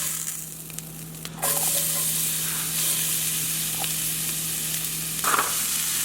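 Onions and serrano peppers frying in a pan over medium-low heat, a steady close sizzle and hiss with a few soft scrapes and stirring clatters on top.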